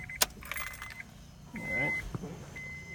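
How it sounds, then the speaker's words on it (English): Keys jangle in the ignition of an Acura RSX, then the dash chimes with short electronic beeps as the ignition switches on, with a faint mechanical whir, close and fairly quiet. "So let's turn that car on."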